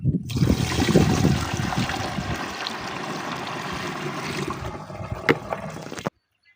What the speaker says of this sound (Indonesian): Oke, langsung saja kita eksekusi. Baik, kita isi dulu sprayernya kira-kira setengahnya.